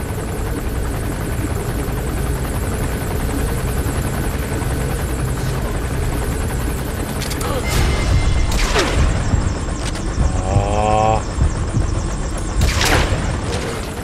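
A helicopter in Metal Gear Solid V thrums loudly and steadily throughout, joined midway by bursts of gunfire, booms and sharp crashing impacts, with no talking.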